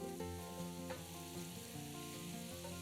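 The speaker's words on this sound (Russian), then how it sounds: "Жарим их на самом большом огне до испарения жидкости" Mushrooms frying in a little vegetable oil in a hot pan over high heat, a steady close sizzle with occasional stirring clinks, no voices.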